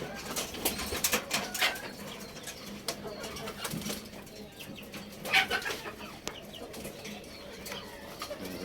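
Racing pigeons in a loft make soft cooing and scattered fluttering wing sounds, fairly faint and irregular, mixed with light background noise.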